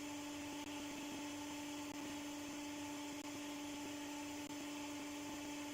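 A spinning rotor system with stator magnets runs at high speed, giving a steady, close whine with a strong sustained tone over a constant whirring hum, unbroken throughout.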